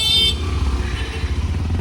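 Car and motorcycle horns honk in dense street traffic, with a sharp honk at the start followed by a steady low engine rumble from passing vehicles.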